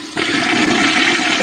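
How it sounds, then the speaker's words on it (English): A toilet flushes loudly and close by, a steady rushing surge of water that starts abruptly and continues without pause. "Why did he flush before peeing?"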